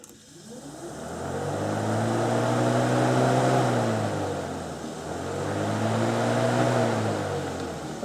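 Honda S2000 radiator cooling fans running steadily, a loud continuous whirring drone with a rising and falling hum that swells twice, close to the car and heard alone.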